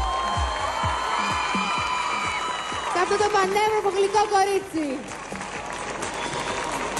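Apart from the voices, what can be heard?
studio audience applause and cheering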